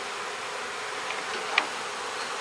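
Honeybees from newly installed package colonies hum softly around the hive, a faint, steady insect drone with one brief sharper tick partway through.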